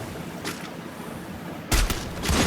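Gunfire in a mobile battle game during a sniping match: a brief muffled shot early, then a louder burst of several sharp reports followed by another short cluster, over a low background rumble.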